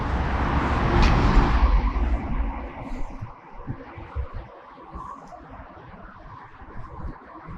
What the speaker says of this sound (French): Donc il y a pas mal de circulation.